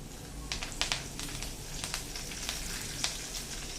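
Fresh green curry leaves and asafoetida crackle in hot tempering oil for a sweet-sour Maharashtrian amti, a steady close sizzle broken by sharp little pops scattered through the moment.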